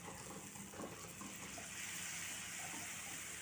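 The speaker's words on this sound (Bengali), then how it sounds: "জল দিয়ে দিলাম।" Water poured into a cooking pan over frying spices and onion paste, a soft continuous gushing splash heard fairly faint and steady.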